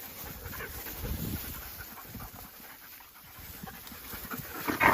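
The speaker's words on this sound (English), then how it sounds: "A couple of dogs jumping a fence." A couple of dogs pant close by after jumping a fence, quick breathy huffing under outdoor background noise, with a louder burst near the end.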